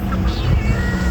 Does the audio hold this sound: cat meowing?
yes